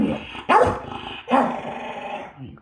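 A dog named Bradley, guarding a power supply indoors, lets out two sharp close barks with a low growl rumbling between and after them.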